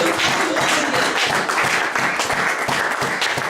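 A church congregation applauds steadily during a sermon, dense continuous clapping from many hands filling the room with no pauses.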